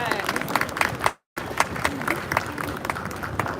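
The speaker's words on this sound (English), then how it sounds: "Give her a big round of applause." Audience applause at the opening of a museum of African art in Brooklyn: steady, dense clapping from a sizeable crowd, broken by a brief cut of silence before resuming just as strongly.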